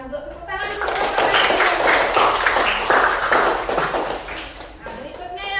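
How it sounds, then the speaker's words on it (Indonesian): Classroom applause after a student group's song about magnets, a burst of many hands clapping that swells quickly and stays lively before tapering, with voices mixed in. "silakan duduk, tepuk tangan dulu"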